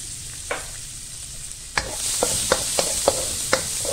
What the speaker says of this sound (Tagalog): Igisa na po natin ang ating bawang sa butter.